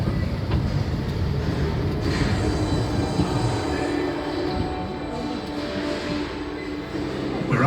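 A Royal Mail Rail underground post office train rumbles steadily through a tunnel beneath London's Mount Pleasant sorting office, with loud continuous wheel roar, rattling carriages and occasional squeal, heard close and without talk.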